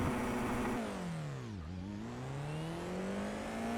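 F4 race car launching off the line in iRacing: the engine note dips as the clutch bites, then climbs in a smooth rising whine, steady and moderately loud, with no voices.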